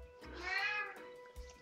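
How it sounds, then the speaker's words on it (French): A pet cat lets out one clear, fairly close meow with a rising then falling tone, followed by quiet background and a soft thump. "Mon chat, tais-toi."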